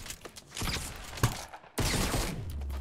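Gunfire in the Fortnite battle royale game during a squads match: scattered sharp shots with one loud crack, then a dense burst of rapid firing that continues to the end, mixed with game noise.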